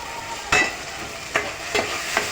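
Ground masala paste fries with golden onions in hot oil for a fish curry, a steady close sizzle punctuated by four scraping stirs of a spoon against the pan.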